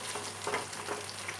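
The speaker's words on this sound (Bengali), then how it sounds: "মিশিয়ে নাড়তে হবে, নাহলে কর্নফ্লাওয়ারটা আবার ডেলা হয়ে যাবে।" Garlic prawns fry in a pan while cornflour is stirred in, producing a soft, steady sizzle with light stirring scrapes, faint and brief, with no voices.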